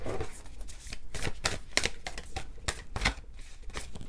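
Tarot cards shuffled by hand in a series of quick riffling bursts and soft flicks, close and fairly quiet, with no talking.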